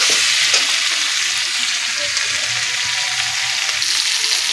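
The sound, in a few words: sautéing small kuchi fish with spices in a pan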